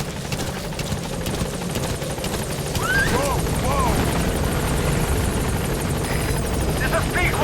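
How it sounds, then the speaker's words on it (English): Support helicopter in Metal Gear Solid V, a loud, close rotor drone with rhythmic blade thumping that swells midway, while radio-style voices talk over it. "Support helicopter has arrived."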